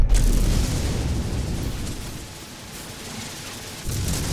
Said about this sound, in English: That's basically just a laser that Runs and runs and runs.